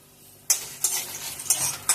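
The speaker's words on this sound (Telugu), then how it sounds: "ఆయిల్ మనకు కాస్త హీట్ అయ్యాక ఇందులో ఎండుమిర్చి ఇంకా జీలకర్ర వేసుకోవాలి" Dried red chilies and cumin seeds go into hot oil in a pan, followed by a few quick stirring scrapes and clanks over a soft sizzle, brief and close.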